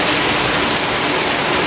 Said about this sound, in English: Look at that, there is a waterfall.